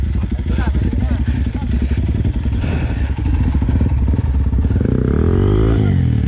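Several motorcycles run loud and steady together during a penitence procession, their engines droning continuously with clattering and thumping mixed in and a brief revving swell near the end.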